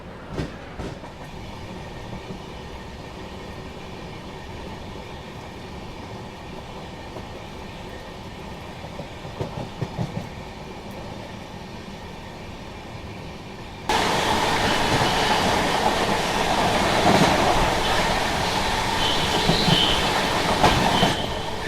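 Nandan Kanan Express train passing through a station, a steady rolling rumble with clickety-clack wheel beats that swells into a louder, brighter roar and squeal for the last several seconds, nearby and with no talk.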